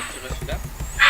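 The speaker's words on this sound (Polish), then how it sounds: "I właśnie słyszycie może psa" A dog barks in the background of a room, a few short yips and bow-wows, faint and distant, mixed with low room noise.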